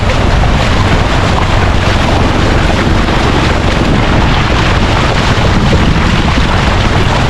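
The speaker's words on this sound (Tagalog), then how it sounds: "Lakas ng hangin." Strong wind buffets hard and constantly, a loud, rough, unbroken roar with the rushing sound of water beneath it.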